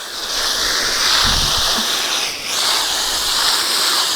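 A steady, loud rushing hiss of water pouring continuously, with a brief dip in the flow midway.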